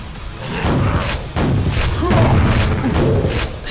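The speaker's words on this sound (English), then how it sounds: "he's throwing nades at us" Grenades explode in Quake on the E1M2 Castle of the Damned map, a string of loud booming blasts that follow one another closely and rumble on, with a little voice underneath.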